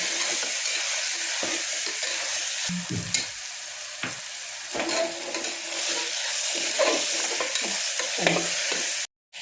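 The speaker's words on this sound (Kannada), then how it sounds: "ಸೌತೆಕಾಯಿ ಹಸಿ ಬಟಾಣಿ ತೊಗೊಂಡು ಸ್ವಲ್ಪ ಚೆನ್ನಾಗಿ ಮಿಕ್ಸ್ ಮಾಡ್ತೀನಿ ಎಲ್ಲ" Cucumber and green peas are stirred in a sizzling pan, a steady frying hiss with irregular scrapes and clinks of the spoon close by, ending in a brief cut to silence.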